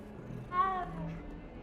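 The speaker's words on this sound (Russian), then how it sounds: "Котик. Или кошка." A cat meows in the Hogwarts Legacy video game, one drawn-out call rising and falling over faint background ambience.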